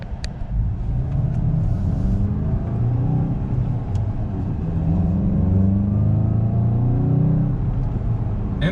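A tuned Volkswagen GTI on lowered springs revs its engine, a deep, throaty intake rumble rising and falling in smooth sweeps, steady and close with no talking.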